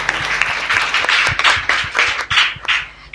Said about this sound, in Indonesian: Berikan tepuk tangan terbaik untuk Tuhan kita.